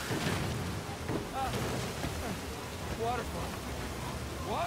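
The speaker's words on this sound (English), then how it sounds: "Waterfall." Rushing waterfall in Uncharted 4: A Thief's End, a steady loud wash of falling water that fills the whole stretch, with voices speaking briefly over it.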